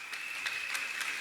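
A church congregation claps steadily for a brief moment at a 30th anniversary celebration, a dense patter of applause with a high ringing tone running through it.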